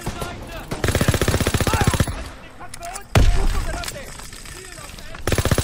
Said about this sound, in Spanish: Yo estoy disparando todo lo que se mueva de color verde.